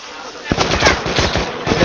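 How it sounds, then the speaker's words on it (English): Rapid bursts of gunfire in ARMA 2 DayZ Mod on the Taviana map near Byelov, several sharp cracks clustered in quick succession, loud and close, with the two players' voices faint in the background. "You are getting shot at."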